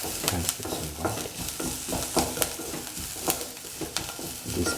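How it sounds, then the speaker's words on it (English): Onions sauté in a pan for a spicy chicken pasta soup, a steady sizzle broken by repeated scraping stirs of a utensil against the pan. "Keep on sauteing."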